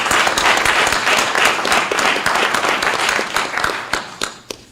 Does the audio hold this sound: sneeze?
no